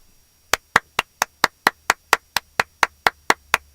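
A steady run of about fourteen sharp hand claps at an even, brisk pace, loud and close with quiet between each.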